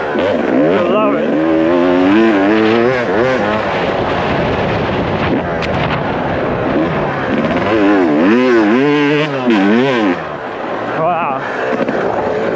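A motorbike is ridden over bumpy ground, its engine revving up and down in wavering climbs and drops, loud and close with heavy wind buffeting throughout.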